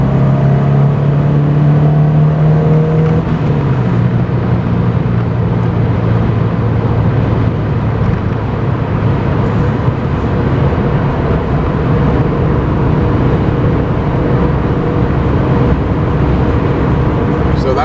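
Supercharged Scion FR-S rolling onto the throttle in fifth gear from about 3600 rpm, a steady loud engine drone with rising tone over road and wind noise, heard from inside the cabin.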